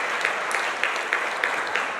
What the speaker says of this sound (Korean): 박미선 사모님 박수로 하겠습니다